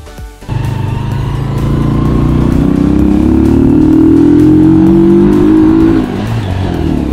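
A motorcycle with drum brakes accelerates hard for a braking test, its engine starting up loud and close, pitch climbing steadily for several seconds before easing off.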